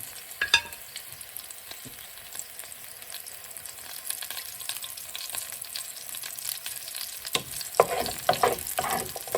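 Garlic frying in a minimum of oil for spinach with potatoes, a steady close hiss of sizzling broken by occasional scraping stirs, louder bursts near the end, no voices.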